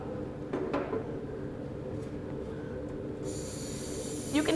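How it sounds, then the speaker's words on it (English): Liquid nitrogen boiling off inside a container, its gas hissing out through a small hole: a faint steady hiss under a low rumble of background noise, with a few soft knocks. "that's the gas trying to escape through this little hole right here because it has nowhere else to go"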